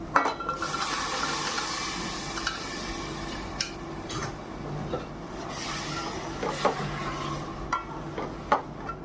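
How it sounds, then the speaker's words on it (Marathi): Water is poured into a pan of chole gravy with a soft, continuous splashing, broken by occasional clinks and stirring knocks. "ग्रेवी जशी हवी तसं पाणी घालणार आहोत आपण"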